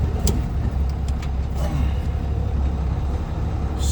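A truck hauling a trailer loaded with wire rebar drives along, its engine a steady low rumble with road noise throughout and a few faint higher clanks near the start.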